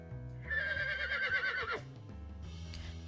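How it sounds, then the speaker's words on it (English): A horse in the video game Code: Realize lets out a single clear, loud whinny with a rising then falling pitch, followed by a brief soft snort and faint hoof-like sounds. "Just as Lupin says, I hear a horse neigh."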